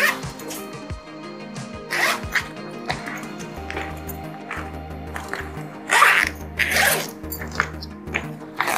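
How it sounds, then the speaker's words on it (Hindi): Zipper on a Leatherworld leather office laptop bag, 21 litres, pulled open and shut several times in quick rasping strokes, close and fairly loud, with a few taps and handling sounds in between. "वैसे चेन तो खुल रहे हैं, बंद हो रहे हैं"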